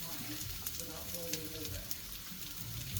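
Chicken and cheese schnitzels frying in oil on a flat top griddle, giving a steady, dense sizzle with soft crackles, moderately quiet and continuous throughout.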